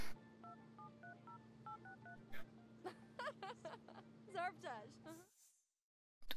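A series of telephone keypad dialing tones from The Sims 3, a quick run of evenly paced beeps followed by a brief pause, then a voice talks over more game sounds before the clip drops to near silence.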